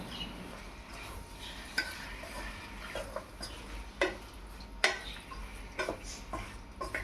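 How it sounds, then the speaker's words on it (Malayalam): Ginger, garlic, curry leaves and salt being stirred in a pan, with soft scraping and intermittent sharp spoon taps against the metal over a low steady sizzle. "ഇഞ്ചി വെളുത്തുള്ളി കറിവേപ്പില ആവശ്യത്തിന് ഉപ്പും ചേർത്ത് നന്നായി ഇളക്കിയെടുക്കുക"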